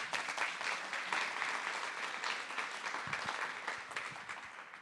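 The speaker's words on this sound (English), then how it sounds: "Let's give them a big round of applause" A crowd applauds the organizers at the opening of an arts education panel event, sustained clapping that holds fairly even throughout and tapers slightly near the end, no talking on top.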